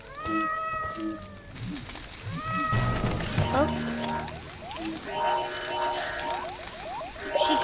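Baby cats meow repeatedly in a video game, high rising cries in quick sequence over steady game background sounds.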